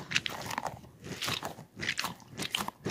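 A squishy toy filled with Orbeez beads is squeezed close up, giving repeated soft crunchy, squelching bursts in an uneven rhythm, with no talking.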